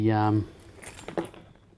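Keys being jangled as part of an everyday-carry kit, a loud bright metallic rattle up close for under half a second, followed by softer faint clinks and shuffling with a voice briefly speaking.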